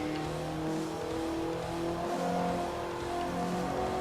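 Racing car engine in Forza Motosport 3, a steady high revving drone with shifting engine tones, loud and continuous through the whole stretch.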